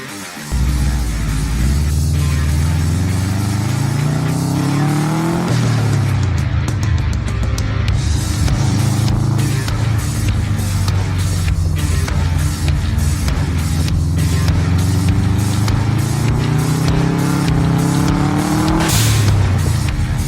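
Subaru Legacy BC5 RS rally car, tuned, with its engine revving hard and loud throughout, pitch climbing and dropping through repeated gear changes, with some tire noise and no talk.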